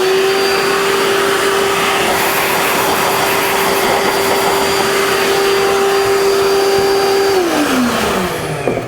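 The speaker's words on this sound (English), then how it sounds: "Let's blow it off." Compressed air blows sanding dust off a wooden carving in a steady, loud, close whoosh with a constant whine, holding for several seconds before the pitch drops and the airflow tails off.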